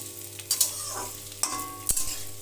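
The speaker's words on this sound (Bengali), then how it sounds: "তিন চার মিনিট কচুটা ভেজে নিলাম আঁচটা মিডিয়াম টুলো দিয়ে" Taro (kochu) fries in a pan over medium heat with a steady sizzle, broken by a few sharp scrapes and clinks from stirring.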